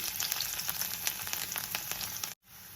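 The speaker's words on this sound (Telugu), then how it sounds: "ఇప్పుడు ఆయిల్ వేడైందండి. ఇందులో ఆవాలు, జీలకర్ర వేసుకున్నాను." Mustard seeds, cumin and a little garlic frying in hot oil in a pan, a dense continuous sizzle with rapid popping crackles that cuts off abruptly and resumes more quietly.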